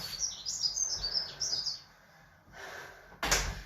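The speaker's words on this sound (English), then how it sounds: "Beautiful sounds of the birds," Small birds chirp and tweet outside in a rapid, busy run of calls, moderately close, then fall quiet before one brief final chirp near the end.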